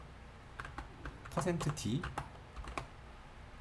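Code is typed on a computer keyboard for an STM32F4 programming lesson, with a run of close, clicky keystrokes in quick uneven bursts while someone speaks over them.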